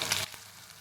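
Onion paste sizzling in a pan for matar paneer, a short burst of loud frying hiss that quickly drops to a faint, low crackle.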